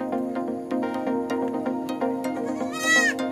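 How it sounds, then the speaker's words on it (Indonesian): Kacang goat, a red-coated doe that has just given birth to twin kids, bleats in a quick series of near, harmonic calls, ending in one louder wavering bleat. "kambing kacang super warna merah lebah, melahirkan anak kembar, yang satu betina, yang satu jantan"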